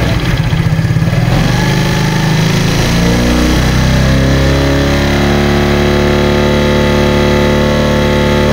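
Suzuki Smash motorcycle engine idling loud and near, a steady buzzing drone whose pitch shifts in the first few seconds before holding even; no speech over it.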